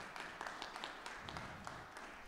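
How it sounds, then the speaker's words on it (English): Audience applause at a political forum for congressional candidates, a faint, steady patter of clapping from a crowd. "makes me feel so good that you guys are clapping"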